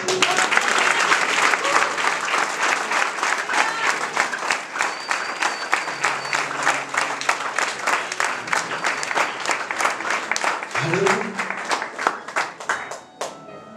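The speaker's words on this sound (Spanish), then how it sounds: "Ahora sí, dale un aplauso." A church crowd applauds loudly with sustained clapping that gradually thins out, tapering to a few scattered claps at the end.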